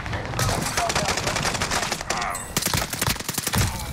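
Rapid bursts of gunfire from an MP40 in Call of Duty Vanguard Warzone, dense repeated cracks of shots in fast sequences with brief gaps, loud and close throughout, with a player occasionally speaking between them.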